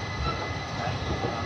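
An express train at a railway platform in India, its steady rumbling roar and metallic wheel noise filling the scene continuously and loudly without pause.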